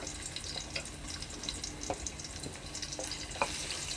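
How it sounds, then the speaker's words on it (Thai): Garlic stir-frying in hot oil over medium heat, a steady soft sizzle with scattered crackles and light stirring scrapes, close and continuous with no talking. "น้ำมันร้อนเอากระเทียมลงไปผัดค่ะ"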